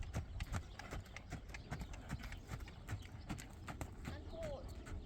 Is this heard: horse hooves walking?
yes